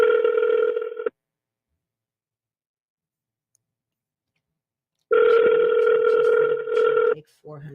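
Outgoing call ringback tone on a phone: a steady electronic ring for about a second, a long silence, then a second long ring burst, followed by the start of a voice.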